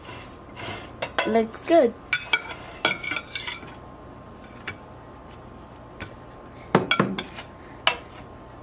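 Spatula working pancakes in a pan during breakfast cooking, with irregular scrapes, clinks and taps of utensil on metal in short bursts; a voice speaks briefly.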